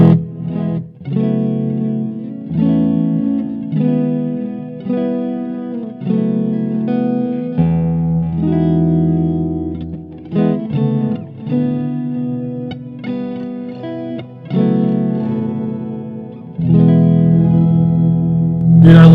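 Telecaster run through a Port City Pearl pedal giving an octave-up and octave-down fuzz, playing a loud, sustained run of chords and riffs with thick harmonics and reverb-like tails, alone with no voices.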